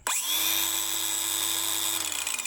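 Cheap 4-inch cordless angle grinder fitted with a large disc, spinning up quickly from silence into a loud, steady high-pitched whine with a constant motor hum, close and alone.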